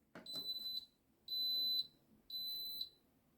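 A slow cooker beeps as its four-hour cycle on high finishes: three clear, evenly spaced electronic tones, each about half a second long, sound in an otherwise quiet kitchen.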